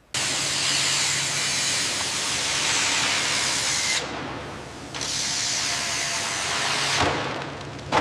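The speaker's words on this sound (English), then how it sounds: "Applying marker fluid now." Marker fluid sprays onto a yacht hull in loud, continuous hissing bursts, one long spray, a short break near the middle, then another, with no voices.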